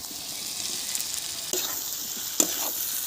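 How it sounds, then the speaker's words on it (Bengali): Potatoes stirred in a hot frying pan with sizzling oil while cooking rui fish-head murighanto, a soft constant fry hiss broken by a couple of sharp spatula knocks, close by with no talk. "আলুটা দিয়ে একটু নেড়ে চেড়েই জল ঢেলে দেব"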